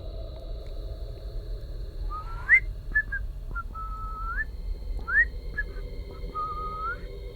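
A nighttime whistler whistles the same cheerful melody, a few short rising and held notes with pauses between them, heard fairly faint over a low steady background hum.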